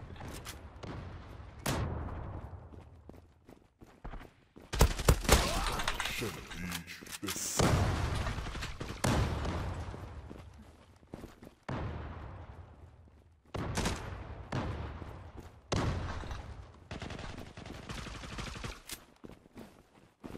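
Gunfire in the online shooter Zula, with repeated bursts and single loud shots echoing in irregular clusters, separated by brief lulls, while a player talks at times.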